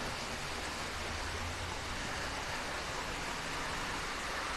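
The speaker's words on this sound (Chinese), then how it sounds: "而且这边还有很大的雨哦，我们看到这种好大的雨哦" Heavy rain falling at Zhishan Garden at the Taipei Palace Museum makes a dense, even hiss that fills the whole stretch, steady and unbroken, with no talk.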